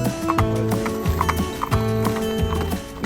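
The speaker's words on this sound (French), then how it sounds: "la qualité de ces courses au trot" Horses trot at the Feurs racecourse in a steady, close clip-clop of hooves, with a sustained music-like tonal bed underneath and a brief whinny-like cry.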